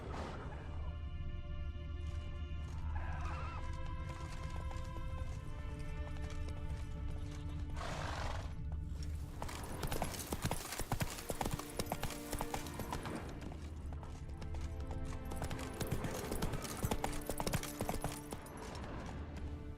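Horse hooves clip-clopping at a gallop in The Witcher 3 video game, a steady loud hoof rhythm over game music and ambience, with a neigh partway through.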